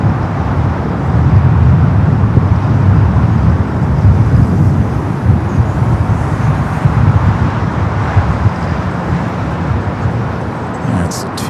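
A British Airways airliner bound for London Heathrow makes its takeoff roll down runway 24 left at LAX. A broad, steady jet roar holds for the whole stretch, loud and even with no clear peak.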